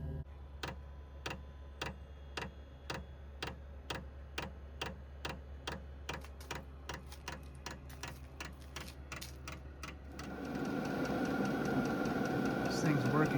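A diesel heater running, with a steady low hum under a regular ticking pulse for most of the clip, then a louder broadband rush of its fan blowing hot air.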